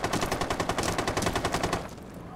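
Rapid automatic gunfire from a Rainbow Six Siege match, a quick burst of a dozen or so evenly spaced shots over about two seconds, loud and close, then trailing off.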